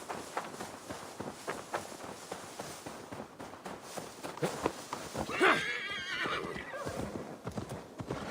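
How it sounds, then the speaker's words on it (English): A horse in Assassin's Creed Valhalla trots with a steady clip-clop of hooves. Midway it gives one loud, close whinny, then the hoofbeats carry on. "Now to deliver Magni his horse."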